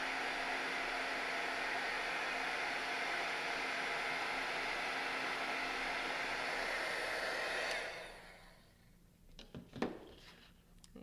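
A heat tool blows a steady, loud airy whoosh over embossing powder for about eight seconds, then cuts off, leaving faint handling clicks and taps.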